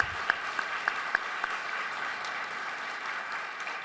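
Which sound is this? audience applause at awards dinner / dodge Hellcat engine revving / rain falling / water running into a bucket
audience applause at awards dinner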